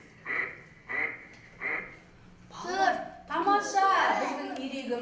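Three short quacks from a duck, evenly spaced and fairly close, followed by a voice talking.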